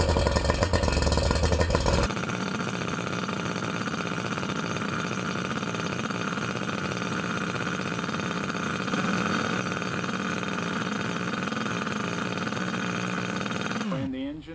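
A small outboard boat engine runs steadily on motor muffs at close range, a dense, buzzing drone that holds for the whole stretch before cutting off at the end.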